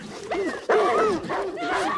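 Dogs in a TV drama scene whimper and yip with a few barks, fairly close, overlapping agitated voices and dialogue throughout.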